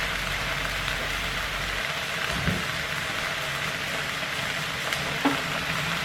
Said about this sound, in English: now what we want to do is add in the celery, the carrots, the onions into the mix